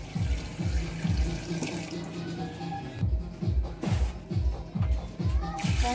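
Water pouring into a cooking pot of simmering stew, a continuous close splashing gush with rhythmic bubbling glugs, no talk.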